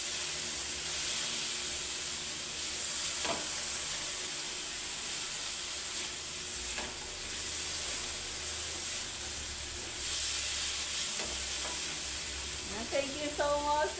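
Ground meat (giniling) sizzles and fries steadily in a pan while being stirred, a constant loud hiss with occasional scraping strokes and brief clatter near the end.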